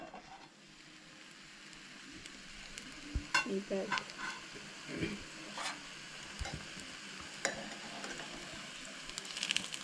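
Mixed vegetable cutlets made with rice flour frying in a pan, a soft even sizzle with a few sharper scrapes and clinks as they are turned, fairly quiet and close.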